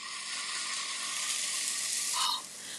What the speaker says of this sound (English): love the sizzle